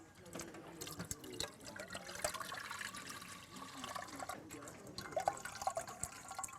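Fresh coconut juice pours through a strainer, trickling and splashing steadily with faint drips, close by at low volume.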